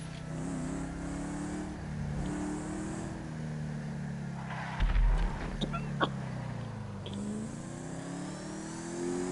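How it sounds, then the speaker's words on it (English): A Ford GT40's raspy V8 revs at a car meet, the engine note rising and falling in a couple of swells with a sharp blip midway, heard at moderate distance over outdoor background noise. "this GT40 does sound nice. Really raspy sounding V8"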